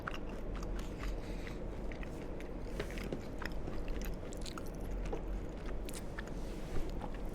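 Walnuts being chewed close up, a dense run of crunching bites and grinding mastication, steady and quiet throughout with no talking.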